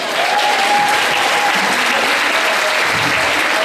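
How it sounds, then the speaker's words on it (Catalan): Strong, sustained applause from an audience at an end-of-year school concert, a thick continuous patter of clapping heard close up, with a faint whistle or voice rising briefly above it. "un aplaudiment"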